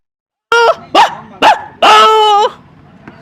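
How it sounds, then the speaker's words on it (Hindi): A small dog gives three short yapping barks followed by a longer drawn-out whine-like bark, loud and close with no talking. "फिर एक छोटे से कुत्ता रहते, वो भौंकते।"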